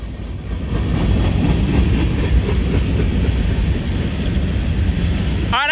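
A Norfolk Southern freight train hauling boxcars rolls past with a steady, loud, low rumble and rattling wheel noise that builds slightly and holds throughout.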